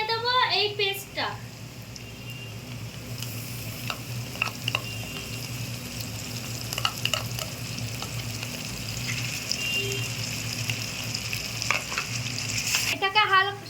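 Spice paste mixed with turmeric and packet masala sizzles steadily in a pan for a tarka, with occasional stirring scrapes and a brief voice at the start and end.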